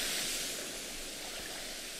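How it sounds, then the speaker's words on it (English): A waterfall at a drop-off in the adventure game Uru gives a soft, steady rushing hiss, distant and even, with no voices. "There's a drop-off here with this waterfall"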